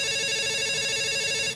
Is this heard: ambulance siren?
no